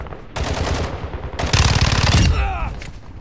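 Rapid automatic gunfire rattles in Call of Duty, loud close bursts of machine-gun fire with a short pause between, followed by a ringing metallic tail.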